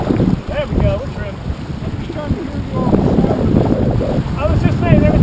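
Strong wind buffets a sailboat running under a large spinnaker, a loud steady roar of gusts across the microphone with water noise, while voices talk faintly beneath it throughout.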